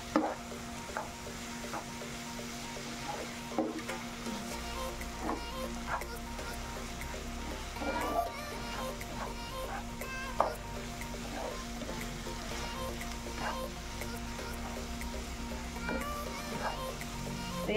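Food sizzling and simmering in a pan, a steady low frying hiss with occasional stirring clicks and scrapes, fairly quiet and continuous with no talking.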